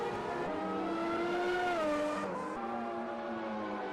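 A classic 1988 Formula 1 race car screaming around Montreal in the game Automobilista 2, a loud, continuous high-revving engine whose pitch climbs, drops with a gear change, then settles and rises again.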